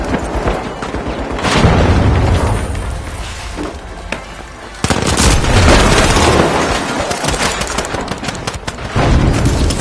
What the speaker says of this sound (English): Good grenade out. Send in a frag.